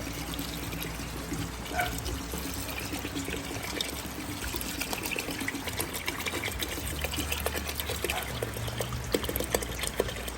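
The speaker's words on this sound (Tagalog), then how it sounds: "Ito nag-init na ako ng tubig para ito yung nabubuhos pag ano." Heated water being poured on a farm makes a continuous, fairly quiet trickling gush that runs steadily throughout, with no voices over it.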